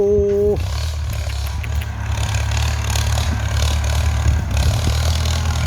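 A walk-behind tractor engine runs in a rural field, a loud, steady low throb that continues throughout; a short tonal sound at the start stands out above it.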